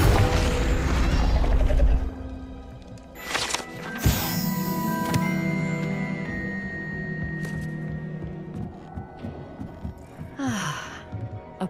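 A Confringo fire spell bursts in Hogwarts Legacy, a sharp explosive crack around the middle followed by a ringing, crackling tail, with a low rumble at the start and a whoosh near the end.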